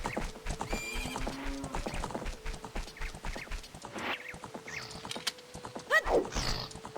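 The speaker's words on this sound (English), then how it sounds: "Yo, big horse!" Horse in The Legend of Zelda: Ocarina of Time, a run of rhythmic game hoofbeat clip-clops with a whinny near the end, loud and up close over background game music.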